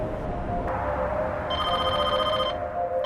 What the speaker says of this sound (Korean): 프로파일링 팀으로 전화가 한 통 걸려와.